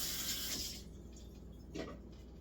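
Tap water runs briefly over a blender blade in a sink, a soft hiss that fades within a second, followed by a faint splash.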